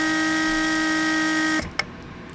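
A Mercedes S-class door lock vacuum pump hums steadily with an even mechanical drone for about a second and a half, then cuts off, followed by a single short click in the quiet.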